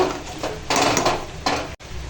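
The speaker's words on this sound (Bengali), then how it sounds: "আমি এখন হলুদ দিয়ে দিলাম আর হলুদ গুঁড়ো দিয়ে ভালো করে ডালটা ঘেঁটে নেব" A spoon scrapes and knocks against a pot while boiled masoor lentil dal is stirred with turmeric, in a few brisk bursts of clattering close by.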